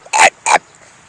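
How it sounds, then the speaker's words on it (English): Two loud, sharp dog barks in quick succession from a dog running around a video game street, followed by quiet game ambience. "there's a doggy running around"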